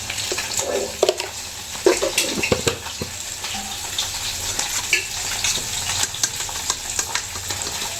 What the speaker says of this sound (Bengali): আর এখানে চলছে কিন্তু মাছ ভাজা, এই পটপট আওয়াজ পাচ্ছ